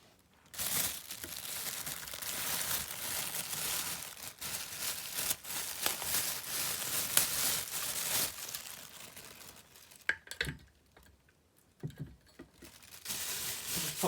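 Plastic bag around a small copper USB desk fan crinkles and rustles nearby in steady bursts, pausing briefly near the end before more crumpling.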